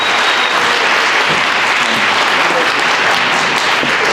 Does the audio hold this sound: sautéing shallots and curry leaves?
no